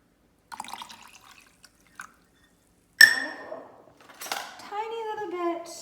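Water poured from a measuring cup over half a cup of oats in a kitchen, a short splashing pour followed by trickling and gurgling as the container fills, with a brief clink of dishware beforehand.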